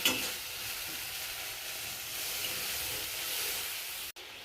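Spices frying in oil hiss and sizzle loudly in a pan as a little water goes in for a fish kalia curry, a steady broad crackle lasting several seconds before a sudden brief drop near the end.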